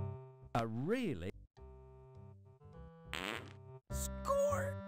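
A horse breaks wind in the Sierra adventure game Freddy Pharkas, a wavering, bending comic blast played loud and close among other synthesized game sounds and music-like tones.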